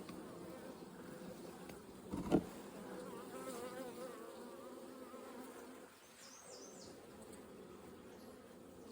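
A honeybee colony hums in a dense, steady drone close by, with a brief clunk partway through and faint sounds in the background.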